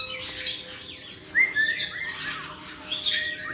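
Spike, a pet bird, gives shrill squawks and chirps up close, with a louder sharp call in the middle and more squawks near the end.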